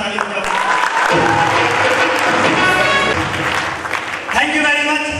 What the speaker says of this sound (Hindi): भाई साहब जोरदार ताली बजाओ